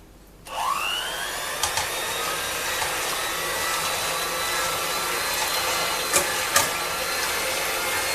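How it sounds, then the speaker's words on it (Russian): An electric hand mixer whirs steadily as eggs are beaten for an apple charlotte batter, a continuous close motor drone running throughout with a couple of brief louder bumps. "сначала взбиваем яйца"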